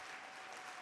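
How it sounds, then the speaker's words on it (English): An audience at an anti-corruption expo and games event claps for Namibia, a soft, even patter of applause that sounds faint and distant in a full hall. "Can we also clap for Namibia?"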